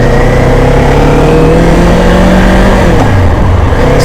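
A motorcycle engine ridden by a new rider drones loud and close with steady wind rush, its pitch shifting as gears change, heard continuously from the rider's position.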